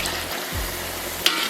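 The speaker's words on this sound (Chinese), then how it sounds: "咱们把这个提前调好的酱料给它下里边" Pre-mixed sauce hits meat in a hot wok while braised pork belly is being made, setting off a loud, steady, continuous sizzle close up, with a brief metallic clink near the end.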